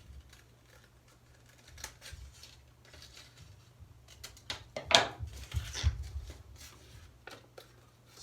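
Scissors snip through a paper template for a soft slab mug, with quiet, irregular cutting and rustling sounds, faint at first and growing slightly louder near the end, with no talk.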